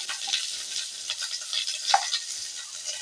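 Ground peanut, ginger and turmeric paste fries with gourd greens in a pan, a steady soft sizzle with light stirring scrapes and a few sharper pops.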